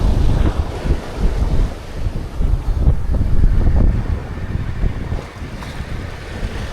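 Big ocean waves surge around a sailboat underway off the Oregon coast, bound for Tongue Point, with a constant roaring rush of water and gusting wind buffeting the microphone, loud and close.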